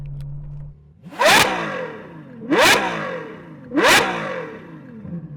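A Ferrari 812 engine with a Novitec exhaust revs hard three times in quick succession, each sharp roaring burst rising and falling back, loud and close.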